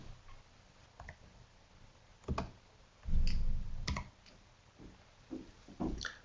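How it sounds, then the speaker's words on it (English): Soft, scattered keyboard clicks tap quietly and irregularly, with a few short bursts of keystrokes in a hushed room. "Probably, yep, Jen's typing"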